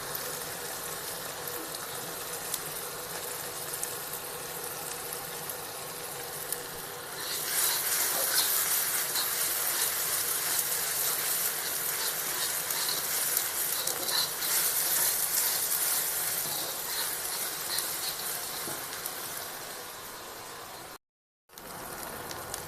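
Chopped onions fry in a pan for fish curry, a steady sizzling hiss that swells louder partway through as they are stirred, continuing alone before a brief cutout near the end.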